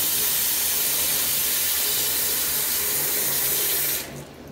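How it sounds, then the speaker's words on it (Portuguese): A bathroom faucet runs hard into a sink, a loud, steady rushing hiss of water that cuts off abruptly near the end, leaving a quieter room tone. "Então agora vamos fazer a mesma coisa com a torneira do banheiro."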